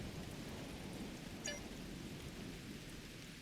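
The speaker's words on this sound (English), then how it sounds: "Wow, rain on Ryza." Steady rain falling in a Star Trek Online game world, a constant dense hiss with a low rumble underneath, fairly faint and even throughout, with no voices.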